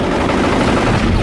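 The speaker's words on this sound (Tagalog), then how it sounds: "Pusilon ko na ang mga ligid." Rapid gunfire rattles nonstop as shots are aimed at a vehicle's tires, a loud, dense burst of cracks that fills the whole moment.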